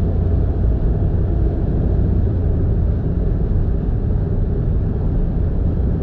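Nissan Roox B44A kei super-height wagon cruising steadily at 120 km/h, with a continuous, even low road and engine rumble held throughout, fairly subdued and unbroken.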